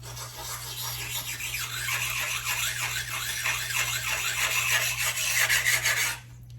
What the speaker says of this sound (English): A good sign of if it's doing a decent job sharpening is if it removes the rust on the edge of the blade.